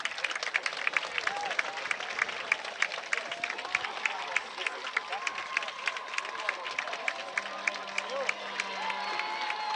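A big crowd at a Bedford versus Londonderry varsity football game, clapping and cheering in a steady roar of applause with sharp claps standing out; an announcer talks over it.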